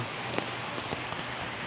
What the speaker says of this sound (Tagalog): Medyo umuulan na po.